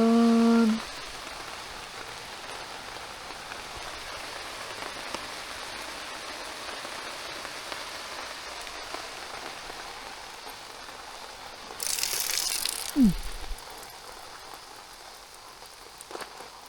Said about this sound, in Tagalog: Ayan lang po natin yung ulan.